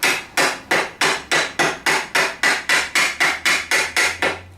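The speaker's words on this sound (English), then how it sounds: "I'm going to try using my new Faster Cat hammer." A Faster Cat hammer beats worn metal trailer brake backing plates back into shape with about eighteen quick, even, ringing strikes, close and loud, with no speech.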